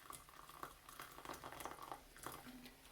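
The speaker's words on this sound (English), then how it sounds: "we're going to pour 100 millilitres of freshly boiled water" A hundred millilitres of freshly boiled water is poured into a container, giving a faint, steady bubbling trickle with soft splashy patter for a few seconds and no talking.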